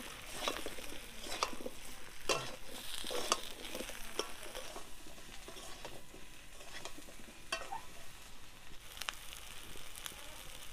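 Fish roe fried in a pan with salt, turmeric and spices, stirred steadily: a constant oily sizzle runs throughout with repeated scraping spatula strokes at moderate volume, no voices.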